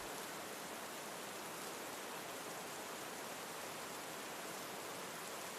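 Steady rain falling outside a cabin at night, a faint, even, unbroken hiss with no distinct drops or other sounds.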